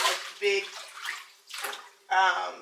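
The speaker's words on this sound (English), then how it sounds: "I'm still gonna wash these things 7 times, like I always wash my greens" Water runs into a sink in pulsing gushes while greens are washed in salty water, the flow starting and stopping in close bursts with a voice speaking over it.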